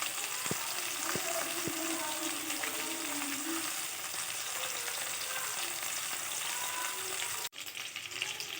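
Loud, continuous close-up sizzling of chitol fish frying in oil, with a few sharp clinks near the start and a brief dip before the crackle resumes.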